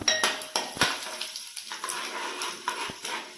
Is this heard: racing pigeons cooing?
no